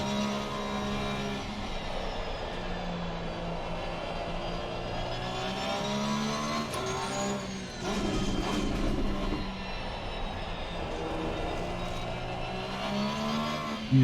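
A race car laps the Nurburgring in a sim racing game, its engine droning loud and steady with shifting pitch throughout, surging briefly partway through, with no talk.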